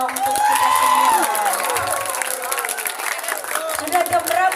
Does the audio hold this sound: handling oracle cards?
no